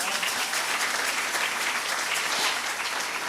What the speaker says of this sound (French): On acclame les œuvres.